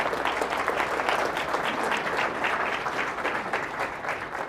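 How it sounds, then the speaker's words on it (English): A round of applause from the audience at the Wilson County State of the County event, steady dense clapping heard from a moderate distance, continuous and unbroken by speech. "give both of these ladies a round of applause"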